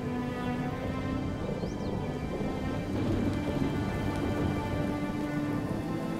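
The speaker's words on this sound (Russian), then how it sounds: "В горных районах Анголы дожди идут часто." Rain falls steadily in the mountains of Angola, a dense continuous hiss with low rumbles of thunder underneath, with no voices present.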